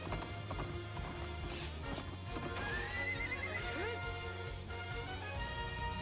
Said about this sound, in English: Can I battle while on Epona? That'd be pretty sick. Get some awesome horse combos